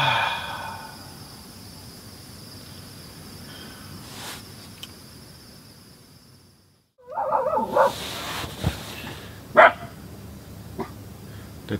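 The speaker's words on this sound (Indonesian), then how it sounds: "Dari tadi anjingnya gonggong terus." A dog barks repeatedly at night close to a tent at a hilltop campsite, sharp loud yelps arriving in uneven bursts in the second half after a quieter stretch, with steady cricket and insect chirping underneath throughout.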